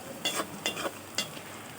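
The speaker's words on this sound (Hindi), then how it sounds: "अदरक और लहसुन का पेस्ट शामिल करने के बाद 1 मिनट तक और फ्राई करेंगे" Ginger garlic paste frying with browned onions for chicken biryani, a soft steady sizzle broken by about five rhythmic scraping stirs of the spoon, fairly quiet with no talk.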